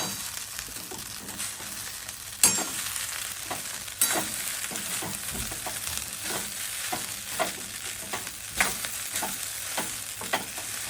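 Poha is stirred and fried in a pan, giving a steady soft sizzle broken by the sharp scrape and clink of a spoon against the pan every few seconds.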